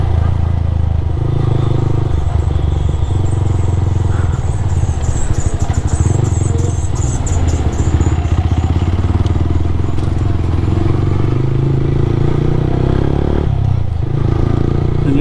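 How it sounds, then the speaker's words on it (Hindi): Motorcycle engine running with its dB killer removed, a loud, steady, rough low rumble with clattery mechanical texture that continues throughout, with no clear talking over it. "अपन ने जैसे कि भाई बहुत टाइम से अपनी बाइक की साउंड नहीं सुनी थी, तो उस चक्कर में अपन ने डीबी किलर हटा रखा है।"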